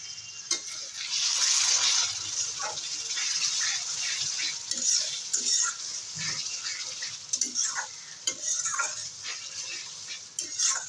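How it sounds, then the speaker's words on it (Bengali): Masala spice paste frying in a pan for a rita fish curry, giving a steady bright sizzle with scattered clicks and scrapes of stirring throughout, fairly close and with no voices. "দু মিনিটের মতো কষে নেব মশলাটা"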